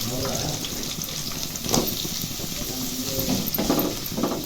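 Onions and green chillies fry in hot oil, giving a steady close sizzle with occasional stirring scrapes and splashes.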